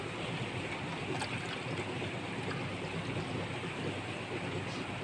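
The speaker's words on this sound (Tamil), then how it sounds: "ஒரு டம்ளரு கூடவே தண்ணி சேர்த்துக்கிறேன்." Continuous splashing, hissing water noise, steady and close, as a tumbler of water is poured into a bowl with lemon juice for pani puri water, without pause.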